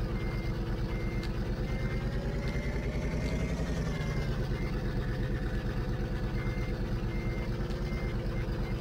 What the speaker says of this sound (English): The truck is too powerful.